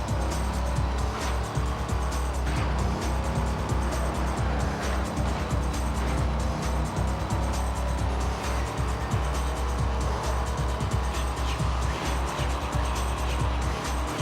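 A racing car engine in the Xbox video game Midnight Club 3 revs and shifts continuously with occasional tire squeals, loud and steady, with no voices.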